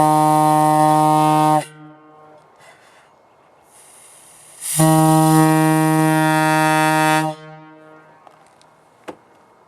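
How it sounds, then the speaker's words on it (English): A WABCO E2 air horn from a Milwaukee Road Little Joe locomotive blows two loud, sustained harmonic chord blasts, about 1.5 and 2.5 seconds long, separated by a quiet gap with faint hiss. "So anyways, voicing of a WABCO E2."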